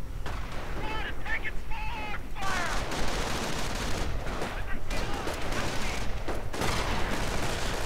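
Gunfire and sniper shots in the Company of Heroes strategy game, with dense, continuous crackling shots and bursts over a steady battle din, with a voice talking throughout.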